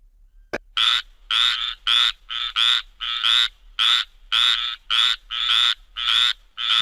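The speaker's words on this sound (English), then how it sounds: "F for frog" A frog croaks loudly and close, about a dozen raspy calls in a steady, rhythmic series after a brief click.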